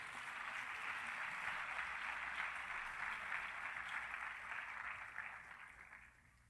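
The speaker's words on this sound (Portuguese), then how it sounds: "Aplauda Jesus," Church congregation applauding together during a worship service, a steady, dense wash of clapping that holds at full strength for most of the stretch before easing off toward the end.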